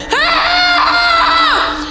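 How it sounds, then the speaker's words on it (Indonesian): A person screams in a film scene, a single sustained, loud high-pitched cry lasting nearly two seconds, with a wavering, wailing quality and no other voices. "Teriakan Vinny tentu sia-sia"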